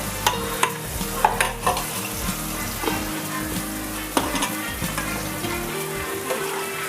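Tomatoes and onions sautéing in oil for a Tamil crab curry, a steady close sizzle punctuated by frequent scraping and tapping of a ladle stirring against the pan, with no voices.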